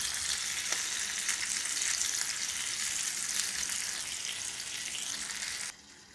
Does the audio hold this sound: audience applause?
no